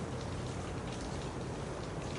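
Steady rain pours down in a dense, even hiss across the whole stretch, close and continuous with no voices or pauses, the soft wash of a storm falling on surfaces.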